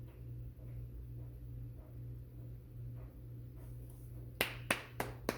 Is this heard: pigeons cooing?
no